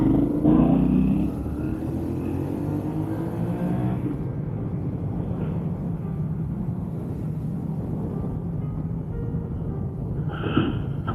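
A motorcycle rolls through town with a steady low engine rumble and wind noise throughout, holding a constant level with a brief brighter swell near the end.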